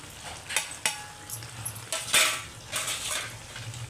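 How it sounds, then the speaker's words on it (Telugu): A spoon stirs gongura chicken masala, seasoned with chili powder and salt, in a pan, giving intermittent scraping clinks over a low, steady sizzle. "కొంచెం కలుపుతానండి"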